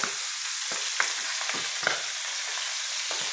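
Milkfish (bangus) frying in hot oil, a steady close sizzle with scattered pops and spatters throughout, no talking.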